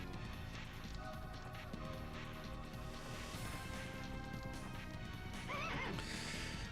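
A horse whinnies over steady hoofbeats and a busy soundtrack in The Legend of Dragoon, with a brief crash mixed in near the end.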